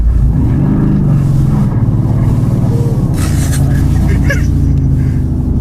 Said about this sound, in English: This is the most slow motion of slow motion donuts I've ever done.